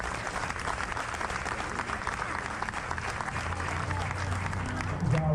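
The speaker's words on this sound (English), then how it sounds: "Please give the East All-Stars a round of applause." A crowd at a Louisiana high school baseball all-star game applauds the East All-Stars with steady clapping that lasts the whole stretch. It is moderately distant, and a faint voice comes through near the end.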